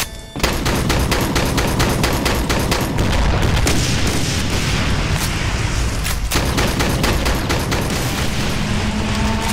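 Loud, dense shotgun blasts in Brutal Doom, a rapid string of booming shots packed with explosions and chaotic combat noise that runs without a break for the full stretch.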